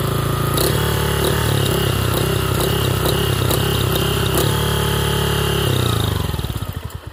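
A motorcycle engine with a freshly rebuilt motor runs steadily and loudly up close, holding a constant throbbing idle before it cuts off and sputters to a stop near the end.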